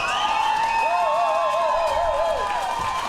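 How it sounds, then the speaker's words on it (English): Studio audience gives a round of applause, a moderate, even patter of clapping and light cheering over a wavering musical tone, lasting about three seconds. "That is a lovely round of applause for him."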